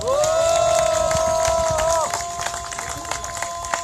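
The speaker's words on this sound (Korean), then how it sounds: "감사의 박수 부탁드리겠습니다" A large outdoor crowd of about 10,000 at a protest rally in Soseong-ri, South Korea, claps and cheers, with a sustained horn-like tone at first before the noise settles into scattered clapping.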